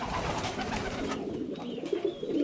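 Homing pigeons in a loft give soft, low cooing calls that repeat under a hushed room background, fairly close with no speech.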